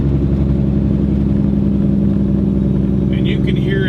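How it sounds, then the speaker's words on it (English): A truck engine under Jake engine braking in third position while rolling downhill, a steady loud low-pitched drone that holds evenly throughout, with a faint higher whine near the end. "you can hear the engine winding down, even though we're going downhill"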